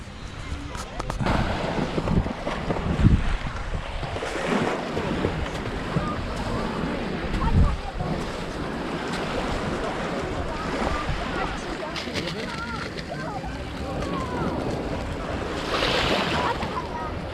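Seaside waves wash steadily at Gdańsk Nowy Port, a continuous broad roar of surf mixed with wind buffeting the microphone, with occasional louder surges.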